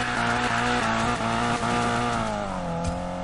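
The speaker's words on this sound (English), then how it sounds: "This is what drifting is about." Car drifting in Need for Speed Payback, a steady, loud engine roar held under a continuous screeching tire squeal, close and unbroken for a few seconds.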